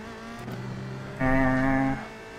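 A USF2000 open-wheel race car engine in iRacing at Oulton Park, a steady buzzing drone that jumps sharply louder and higher in pitch mid-clip as the car shifts and accelerates, then drops back.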